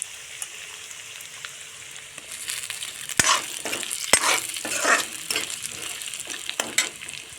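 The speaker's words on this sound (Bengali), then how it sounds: "দিয়ে দেব আলু, দিয়ে নাড়াচাড়া করতে থাকবো" Previously fried potatoes are stirred in a hot oiled pan for an egg-and-potato dish, with a steady sizzle broken by sharp scraping strokes of a spatula, growing busier midway.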